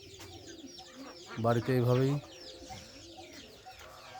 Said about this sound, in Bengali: এই যে কবুতর ডাকছে।